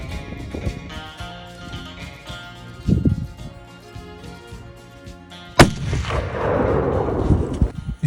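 A single loud rifle shot taken at a desert bighorn sheep ram in Arizona desert country, a sharp crack followed by a rolling echo, preceded by quiet rustling outdoors.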